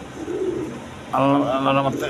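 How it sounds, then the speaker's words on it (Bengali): Pigeons in a coop give low, soft cooing calls that swell louder in the second half, with some background noise and a faint human voice. "এই যে কবুতরটা দেখেন।"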